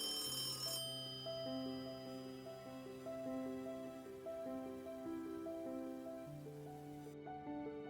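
Telephone ringing in a bedroom, heard as a soft, steady electronic melody of repeating chime notes with a hiss beneath; fairly quiet and unbroken, with no voices.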